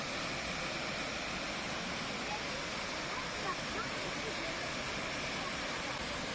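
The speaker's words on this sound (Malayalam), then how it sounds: "ആ കാണുന്നതാണ് വെള്ളച്ചാട്ടത്തിൻ്റെ പ്രധാന ഭാഗം" Ayyappanov waterfall, swollen after two days of heavy rain, roars as a steady, dense wash of rushing water that stays even and unbroken throughout.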